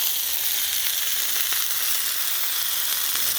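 Thick pork chops sizzling on a Blackstone griddle, a loud, dense frying hiss crackling continuously with small pops throughout.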